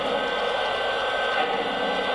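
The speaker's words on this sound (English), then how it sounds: "Next, I'll play the whistle." A Lionel Legacy AT&SF Northern model steam locomotive sounds its whistle in one sustained, steady blast, close and loud, mixed with a broad hissing rush.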